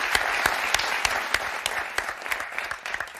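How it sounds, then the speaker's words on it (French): Studio audience applause on a French television game show, a steady, dense wash of many hands clapping with a few sharper individual claps standing out, sustained at moderate loudness throughout. "Et on va applaudir quand même Françoise."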